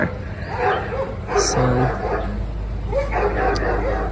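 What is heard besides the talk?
neighbor's dogs barking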